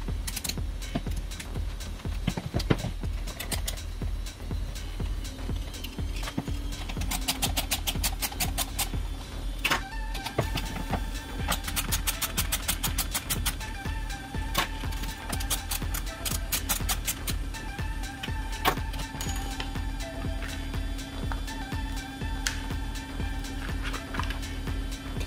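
Torx T10 screws come out of a Parkside 20V 4Ah battery pack casing: a long run of small, close ticking and clicking mechanical sounds, steady and light, with no speech.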